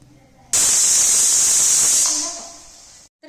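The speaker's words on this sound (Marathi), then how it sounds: "ह्याला 3 शिट्ट्या होऊन द्यायच्या" A pressure cooker on a high gas flame lets off a loud, sustained steam hiss while cooking chicken bhaji, rising sharply, holding steady, then tapering before cutting off.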